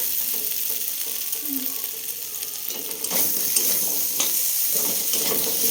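Spice paste fries in hot oil for a vegetable curry of taro and green peas, a steady close sizzle with intermittent scraping strokes of stirring, louder bursts after the midpoint.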